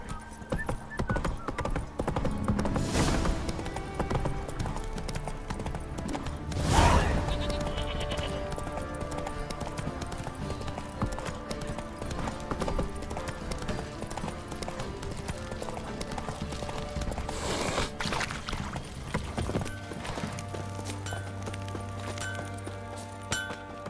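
Horse hooves clip-clop at a steady gallop in The Witcher 3, a continuous rhythmic pounding over game music and ambience, with a brief louder burst partway through and no speech.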